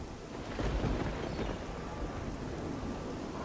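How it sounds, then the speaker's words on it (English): Rain pours steadily in The Elder Scrolls: Oblivion, with a low rumble of thunder rolling through the downpour over a few seconds. "And the thunder and lightning is conducive to things frightening."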